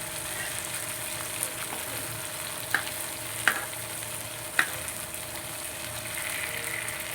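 Ribbon fish frying slowly in a pan, a steady low sizzle throughout with a few sharp crackles and pops standing out, close and fairly quiet, no talking.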